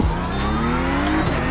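Porsche 911 GT3 (992) engine revving hard in an iRacing race at the Nürburgring, a loud continuous engine whine climbing steadily in pitch and then shifting down, with no talk.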